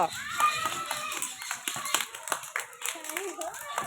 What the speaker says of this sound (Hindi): अरे ताली मारुन जो माने भल चलले ताली मार